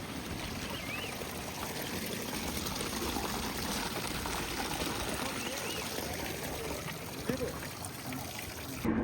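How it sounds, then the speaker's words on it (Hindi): Meltwater waterfall near Kedarnath trickling and pouring steadily at moderate distance, a continuous watery wash with faint voices and background noise beneath. "झरना बना हुआ है।"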